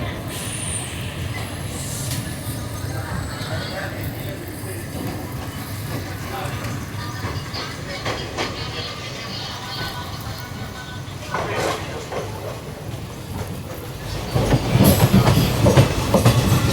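Marathwada Express running on its rails after leaving Rotegaon railway station, a steady rumble of wheels and carriage noise with rhythmic clickety-clack, growing louder toward the end.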